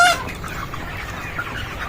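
Chickens on a poultry farm give a brief cluck at the start, followed by a faint, low background murmur.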